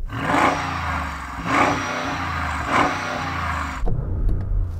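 A Range Rover engine revs hard three times in succession, each surge a loud close roar over a deep idle rumble, then the engine drops back as it settles.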